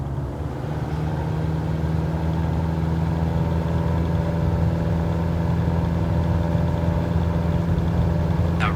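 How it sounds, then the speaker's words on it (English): Single-engine aircraft at full takeoff power in a flight simulator, a steady droning engine hum held throughout at constant pitch, loud and unbroken with no talking. "Now apply full power with some right rudder for the engine torque."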